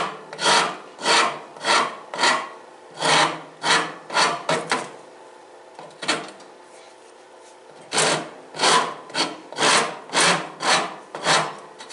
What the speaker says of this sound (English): I'm going to take the rust off this side, then flip it over again.